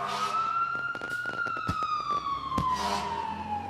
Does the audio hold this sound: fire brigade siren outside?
yes